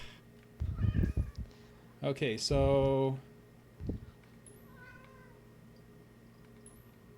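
A cat meows several times nearby, one drawn-out, wavering cry standing out among shorter calls, while a person speaks briefly in between over a quiet indoor background.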